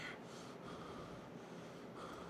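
Rapid heavy panting from a player character in the tactical shooter Gray Zone Warfare, a steady breathy hiss that runs unbroken and fairly loud for the whole stretch with no talk over it.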